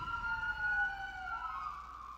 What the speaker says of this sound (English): you're going to hear these sirens